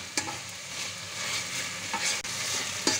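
Vegetables and corn are stirred in a pan for egg dum rice, giving a steady sizzle with a few sharp scrapes of the spoon against the pan, close up and with no voices.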